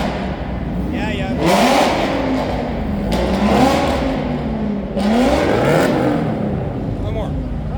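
A Toyota BRZ sports car revs its engine at an indoor car show. Two clear surges rise and fall over a steady crowd murmur, with people talking nearby throughout.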